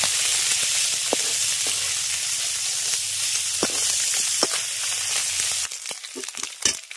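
Hot oil sizzles and hisses loudly and steadily as small mourala fish fry, with a few clicks and scrapes, then the frying cuts off abruptly.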